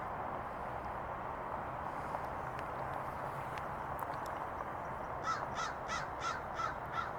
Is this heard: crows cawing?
yes